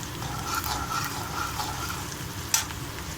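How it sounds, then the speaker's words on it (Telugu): Urad dal frying in hot oil in a pan for besan curry, a steady close sizzle throughout with a brief sharp clatter near the end. "కొద్దిగా మినపప్పు వేసుకుందామండి. ఫ్రై అవ్వాలి."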